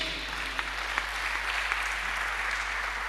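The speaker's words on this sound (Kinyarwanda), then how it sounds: "twongera Imana amashyi" A crowd claps steadily and evenly for a few seconds, a dense, continuous patter of many hands with no voices over it.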